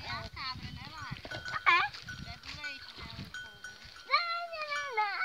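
Free-roaming goats and sheep bleat repeatedly in a rural countryside setting, several calls near and clear, with people talking in Portuguese in between.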